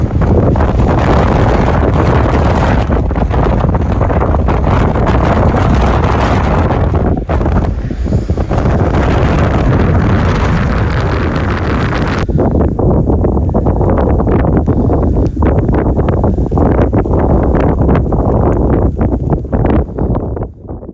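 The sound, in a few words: strong gale wind blowing on isolated road in Lofoten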